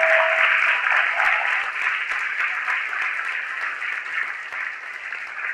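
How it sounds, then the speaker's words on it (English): Many hands applaud in a steady, dense wash at an amateur radio contact between students and the space station, fairly loud throughout and easing slightly toward the end. "with a big round of applause"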